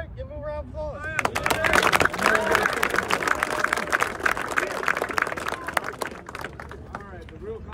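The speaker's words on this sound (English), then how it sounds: "give him a round of applause" An audience breaks into a burst of clapping and cheering for a soldier, the applause swelling loudly and then tapering off, with voices talking at the start and end.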